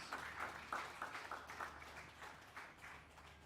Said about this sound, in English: they deserve a really warm round of applause